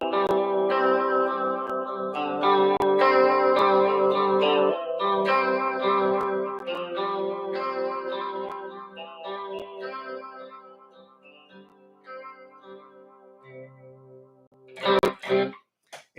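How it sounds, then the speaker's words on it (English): Electric guitar played through an Emperor chorus/vibrato effects pedal, sustained chords with a warbling, shimmering modulation and reverb tail, fairly loud and alone, fading toward the end with a brief strum. "sometimes you just click on that little bit of vibrato from the Emperor"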